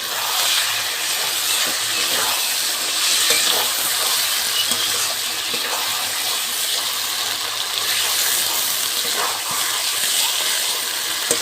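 Chicken frying in a pan with ground spices for a jackfruit chicken curry gives a steady, loud sizzle throughout, with faint scraping and stirring clatter and no talking.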